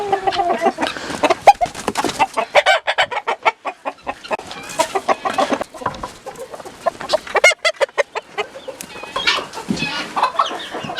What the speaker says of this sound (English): These are my roosters.